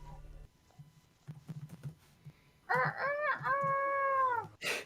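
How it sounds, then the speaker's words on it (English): Rooster crowing in a tabletop fantasy game session, a few drawn-out harmonic crows rising loud over a quieter low hum and scattered soft sounds, with a brief burst of noise at the very end. "you hear the crowing of chickens"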